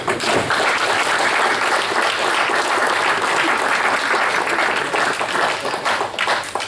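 Loud, sustained audience applause at a talk welcoming the first speaker, a dense continuous wall of clapping filling the whole stretch with no talking.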